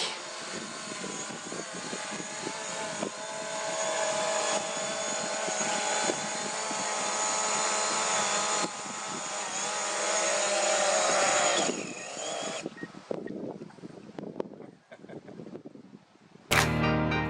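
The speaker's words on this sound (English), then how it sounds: "Hans-Christian has agreed to take some shots for them with a DJI Mavic" A DJI Mavic drone hovers and flies outdoors with a steady, loud propeller whine that holds for about twelve seconds before breaking up into rustling, irregular noise, ending in a brief sharp burst.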